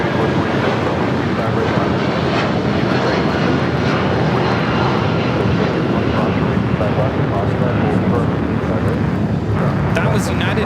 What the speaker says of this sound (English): That was United Airlines 1297 taking off to Chicago on the 757-200.